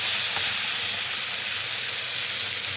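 Spice paste hitting a hot pan of reddish fried onions, a loud, dense, continuous sizzle and hiss, close and alone.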